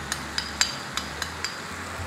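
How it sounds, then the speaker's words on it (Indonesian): A utensil clinks rhythmically against a pan while stirring tomato sauce, six or seven light scraping taps in quick succession over a low background hum. "Ini kita aduk lagi."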